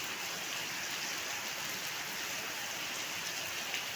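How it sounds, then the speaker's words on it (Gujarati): Heavy rain pours down steadily in Junagadh, a dense, continuous hiss of water that stays even and loud throughout with no voices over it. "ધોમ વરસાદ ચાલુ થઈ ગયો ભાઈ."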